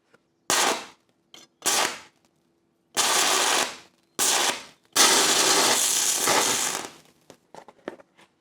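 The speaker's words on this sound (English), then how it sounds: "totally melted my rod, but we have plenty of arc now" A stick welding arc powered by Renogy semi-solid state batteries at about 50 volts crackles and hisses in several short bursts, then holds one longer sustained burn before sputtering out, with no talk.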